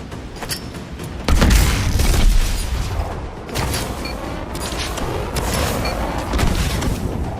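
Grenades explode in Call of Duty Advanced Warfare during a training simulation, producing heavy booming blasts that roll into a sustained loud rumble of battle noise with no pause.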